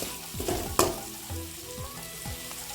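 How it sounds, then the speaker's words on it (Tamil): Onions sauté in a pan with a bright, steady sizzle close by, punctuated by a few sharp stirring scrapes, and no talking. "வெங்காயம் நல்லா வதங்கிட்டு அரைச்சி சேர்த்துக்கலாம்."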